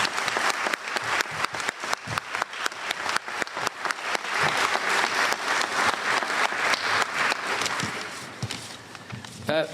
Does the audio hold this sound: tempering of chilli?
no